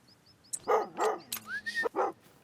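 Hunting dog in a haggis-hunting video game, set in Scotland, gives several sharp barks and yips in close succession, with a brief whining tone in between, loud and near.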